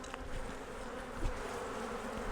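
Honey bees buzz steadily during a fall hive honey harvest, a dense, continuous hum of many insects up close with a few brief knocks and handling sounds.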